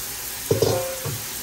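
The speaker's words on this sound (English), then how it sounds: "let's run some water through there and see if I get it right" Water running into a kitchen sink fitted with a newly reinstalled Badger garbage disposal, a steady hiss of flow with a few brief splashy bursts, close and moderately loud, with no talk.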